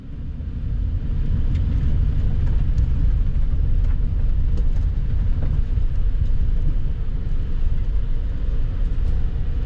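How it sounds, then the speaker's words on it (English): A train rolls past in West Glacier, Montana, along US Highway 2, with a steady, heavy low rumble that swells in and holds loud for several seconds. "Look at the train."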